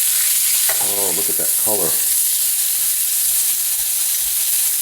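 Pork sizzles and fries steadily in a pan as it browns for pulled pork barbecue, a constant loud crackle running throughout, with a person speaking briefly over it near the start.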